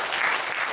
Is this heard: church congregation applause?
yes